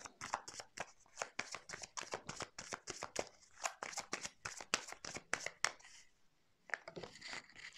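Tarot cards shuffled by hand before a reading, a rapid run of crisp riffling slaps and flicks close to the microphone, pausing briefly near the end before starting again, with no talking.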